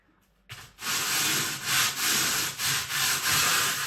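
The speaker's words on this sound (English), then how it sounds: "the tiles have dried and they need to be sanded down slightly before I paint them" Dried joint compound faux tiles on a kitchen splashback being sanded by hand: steady, close, loud rasping strokes in a rhythmic back-and-forth pattern, with no voices.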